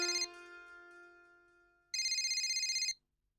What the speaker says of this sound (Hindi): प्यारे जी का फोन आ रहा है